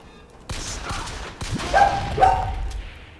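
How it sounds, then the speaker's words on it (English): A dog barks a few times from another room, short sharp yaps coming through faintly behind game sounds, with no voices. "My dog's barking again"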